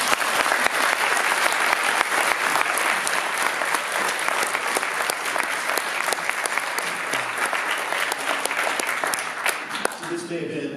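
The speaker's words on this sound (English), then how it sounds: "another round of applause, please" Sustained audience applause after a research presentation on naturopathy websites, dense and steady clapping from a full room lasting about ten seconds, loud and continuous before trailing off at the end.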